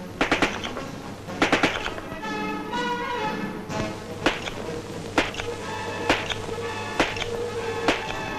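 A British Army Patchett Machine Carbine fires in short bursts and single sharp cracks, spaced through the clip with echoing reports over a low hum.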